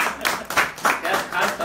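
Audience applause at a live Marathi music concert, several bursts of clapping in quick waves, fairly loud and close.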